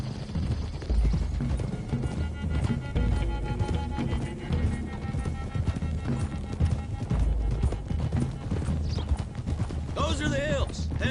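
Horses trot steadily through Red Dead Redemption 2, their hooves making a dense, continuous clip-clop with game ambience layered over it.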